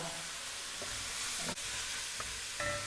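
Onions and garlic frying with bacon in a pan for a traditional French rabbit in mustard sauce, a steady close sizzle with a few soft scrapes of stirring.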